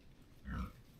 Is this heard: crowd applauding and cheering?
no